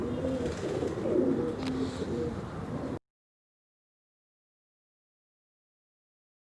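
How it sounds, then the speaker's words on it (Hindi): Pigeons coo softly on a rooftop in a steady murmur of low calls for about three seconds before the sound cuts to silence. "माशाल्लाह बड़े अच्छे टेडी कबूतर"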